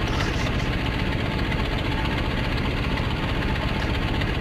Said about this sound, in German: Ich höre den Motor laufen, aber es kommt irgendwie nichts.